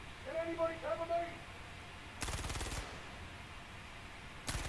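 Gunfire in the Star Citizen video game during a ship boarding, with two short bursts of rapid automatic fire, the first longer and the second cut brief, after a stretch of faint electronic tones.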